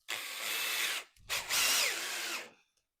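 A power drill whirs in two bursts, about a second each with a short pause between, close by and loud, the motor's pitch shifting as the screw drives in while building a python enclosure.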